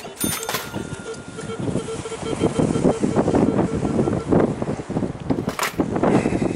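Strong wind buffets an outdoor spot near an old foundation at dusk, a continuous loud rushing roar with gusty swells across the whole stretch, fairly close to the microphone.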